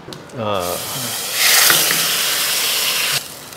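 Hot oggarane tempering poured into saagu erupts in a loud, steady sizzle that holds for a couple of seconds before cutting off. A voice speaks briefly just before it.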